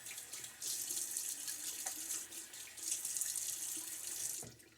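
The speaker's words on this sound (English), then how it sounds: "Get my face wet." Water runs steadily from a bathroom tap into a sink to wet the face before a wet shave, a continuous close hiss that swells and settles over several seconds, with no talking.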